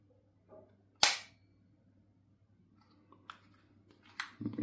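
A Swiss Luger pistol is dry fired: one sharp, close metallic snap from the trigger and action stands alone in a quiet room, followed by a few faint clicks and handling noises.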